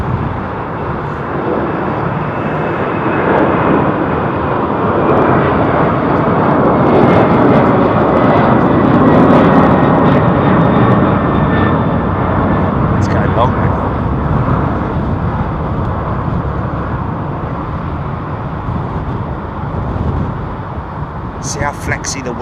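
A Boeing 767 airliner roars at London Heathrow Airport, a loud sustained engine rumble that swells in the middle and slowly eases, with a voice talking over it.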